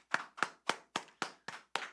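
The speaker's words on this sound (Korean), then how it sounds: "우리 박수 한번 치면서 시작해 볼까요?" A church youth group claps in unison at a worship service, seven sharp, evenly spaced claps in quick rhythm, close and fairly quiet, with no talking.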